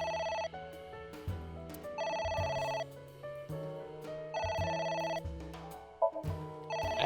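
A telephone rings in AI: The Somnium Files, repeated electronic ring bursts in an even rhythm over a soft musical background, clear and alone without talk.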